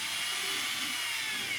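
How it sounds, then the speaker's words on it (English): A small hole being drilled in a motorcycle part for a Honda XR650L, a steady high-pitched whine that stays close and constant throughout, with no voices. "The key points are to drill this little hole"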